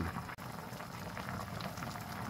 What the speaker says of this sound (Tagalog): Yan guys, ang kulong-kulo na.